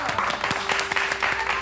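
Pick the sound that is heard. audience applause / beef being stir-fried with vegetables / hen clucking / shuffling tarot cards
audience applause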